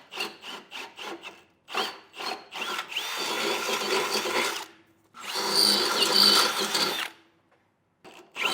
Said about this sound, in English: we can use these 4 holes as guides to drill a hole through one side of our frame